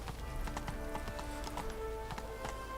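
Hooves clip-clop in a rapid, steady rhythm as a horse gallops in The Witcher 3 video game, continuous over a dense game soundscape.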